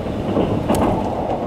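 A Sunrise Izumo sleeper express train runs on the San'in Main Line with a steady, loud rumble and rail noise heard from inside, broken by a brief sharp rattle midway.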